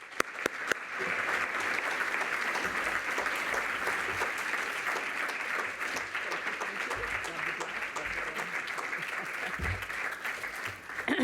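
An audience welcomes Hillary Clinton at a women's initiative launch summit with sustained, even applause from a large crowd, going on steadily at moderate loudness for the whole stretch.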